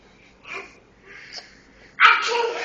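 Small children fake-sneezing at home, a couple of short faint sneeze-like bursts followed by a louder, breathy burst near the end.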